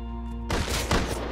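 A SAR semi-automatic rifle in the survival game Rust cuts in abruptly after a steady humming tone, firing a quick cluster of loud, sharp cracks close by.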